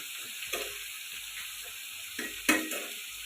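Chicken and bottle gourd cook in a pan, giving faint intermittent sizzles with a few brief louder bursts as the food is stirred, over a quiet hiss.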